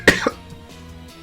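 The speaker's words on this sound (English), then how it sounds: "I really have to cough." A single sharp cough from a man, close and loud, followed by a weaker second burst and a faint throat sound.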